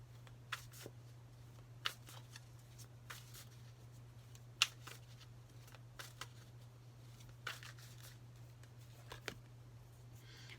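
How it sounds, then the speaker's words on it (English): Tarot-style cards being shuffled and drawn from a zombie-themed deck: faint, scattered flicks and soft slaps of cards over a low steady hum, quiet and close. "Let's get a card from the zombie deck."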